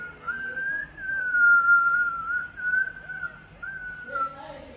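A child whistling a single sustained, wavering tone that rises and dips slightly, close and clear, with a short second whistle near the end and faint background voices.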